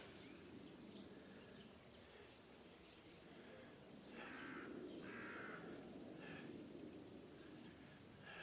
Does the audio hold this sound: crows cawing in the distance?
yes